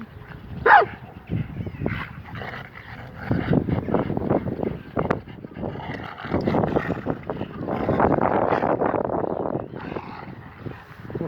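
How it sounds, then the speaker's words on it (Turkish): Several dogs play noisily, with an occasional sharp bark, whimpers and scuffling growls over a steady outdoor rumble. "Yani burada şimdi bir sürü köpek var."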